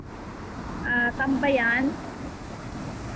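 Ocean waves wash in steadily at Shek O Headland, a broad, continuous surf hiss mixed with wind, with someone speaking briefly over it near the middle.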